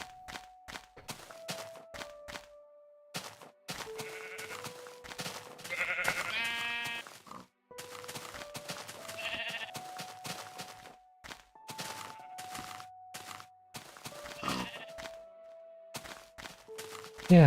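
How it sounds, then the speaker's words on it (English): Sheep bleating in a video game, several short bleats scattered over steady background music, with soft thunks and game sounds between them. "Oh, hello sheep."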